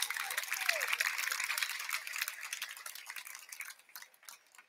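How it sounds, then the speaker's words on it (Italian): Encouraging applause for dancers in an open dance class, a dense patter of clapping that is fairly faint and gradually thins out and fades, with a brief voice near the start. "un applauso di incoraggiamento per loro"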